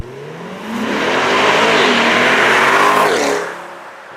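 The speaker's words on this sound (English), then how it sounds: "getting to drive the new mid-engine Corvette out on the road" A 2020 C8 mid-engine Corvette's engine swells from idle into a loud, sustained rev as the car accelerates on the road, holding a throaty roar before easing off, with no talking.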